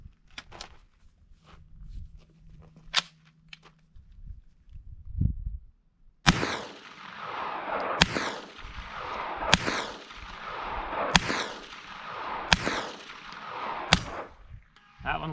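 A series of subsonic rounds fired through a JK Armament suppressor, six sharp muted cracks spaced about one and a half seconds apart, preceded by quieter handling clicks and rustling.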